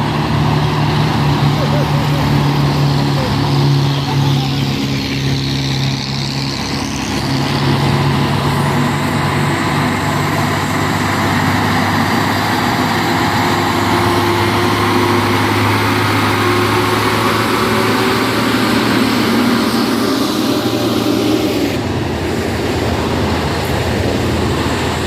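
Nissan Twister Isoteng E01 truck engine droning loudly and continuously as it labors along a hill road, pitch shifting slightly with gear and load, while someone talks over it throughout.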